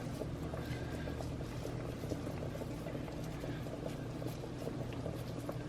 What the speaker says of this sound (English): That's why your water needs to be boiling